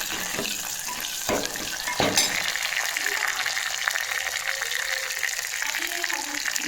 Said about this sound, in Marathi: फोडणी छान तडतडते आणि नंतर याच्यामध्ये मी परत थोडेसे जिरे टाकते